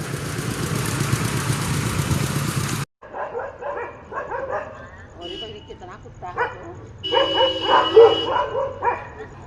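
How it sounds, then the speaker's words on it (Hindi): Street dogs barking and yipping in a residential lane of a Greater Noida block, repeated overlapping barks, with a steady engine idling and people talking nearby; a broad roar of noise fills the first few seconds. "कुत्तों का आतंक"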